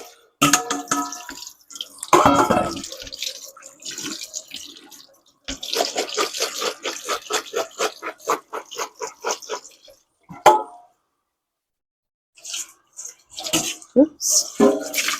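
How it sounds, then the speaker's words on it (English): Potatoes rinsed in a bowl under a running kitchen tap, with close splashing and rhythmic sloshing of water, then a pause and renewed bursts of running water toward the end. "All right, it's time to give these a quick rinse."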